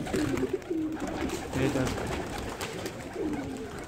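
Pigeons coo repeatedly nearby, soft throaty calls rising and falling over a constant background hum.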